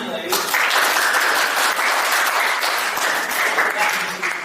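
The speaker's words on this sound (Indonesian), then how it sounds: "Tepuk tangan." Audience applause at an Indonesian teaching session on 2D animation, a dense burst of clapping that starts abruptly after a moment and holds loud and steady to the end, with faint voices underneath.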